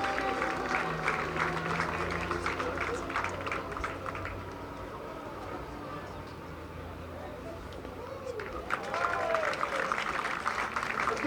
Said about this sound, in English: Let's give everybody from Salve a big round of applause again.